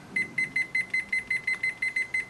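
A backyard smoker thermometer's high-temperature alarm beeps in a rapid, steady series of about a dozen short, clear electronic tones, close by and alone against faint background noise.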